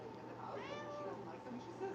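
A cat meows once, a short rising-and-falling call heard close by over a steady background hum while someone crochets.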